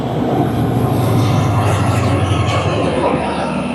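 Garib Rath Express rolling between Agartala and Kolkata: a dense, continuous rumble of wheels and carriage, loud and close, with no voices.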